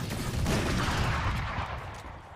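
Gunfire in the video game Valorant comes as a dense, loud burst of rapid shots, harsh and close, tapering off slightly at the end.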